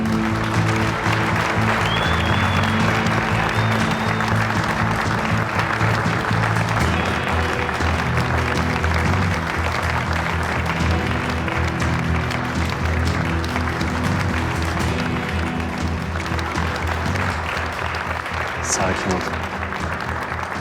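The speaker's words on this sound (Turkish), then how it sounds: "Kozan markasının yaratıcısı Yiğit Kozan'ı alkışlarınızla buraya davet ediyorum." Audience applause welcoming the creator of the Kozan brand onto a stage at a staged launch event, steady dense clapping that fills the whole stretch, loud and close, with voices and music mixed underneath.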